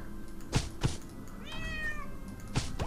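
A cat in the video game Portal Knights lets out a single drawn-out meow midway, framed by a few soft dull thumps, fairly quiet and close.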